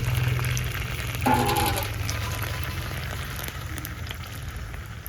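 Ground mustard mixed with water poured through a sieve, leaving the husks behind: a soft, continuous trickling hiss, fairly faint and without talk.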